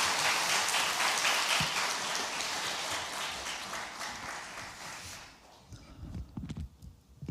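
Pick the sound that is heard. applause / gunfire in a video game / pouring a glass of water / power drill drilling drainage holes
applause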